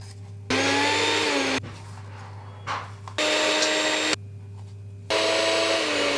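A blender grinds pistachio paste and struggles with the thick mixture, giving three loud, steady whirring bursts separated by short pauses with faint clatter.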